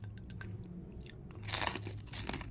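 Crispy beef skin chicharon is bitten and chewed up close, giving a few soft crunches and then a louder burst of crackling crunches with no talk.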